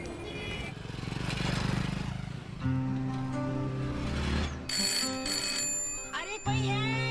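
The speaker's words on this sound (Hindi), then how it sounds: "अरे कोई है, फोन तो उठाओ।" A telephone rings repeatedly in a trilling bell pattern amid a Hindi romantic movie scene, mixed with background score and voices.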